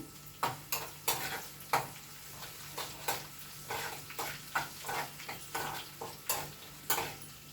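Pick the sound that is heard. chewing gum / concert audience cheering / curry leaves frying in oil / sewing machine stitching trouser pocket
curry leaves frying in oil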